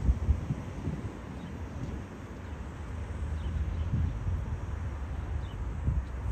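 Strong wind buffets the microphone with low, gusty rumbling and a constant rushing noise outdoors, no voices.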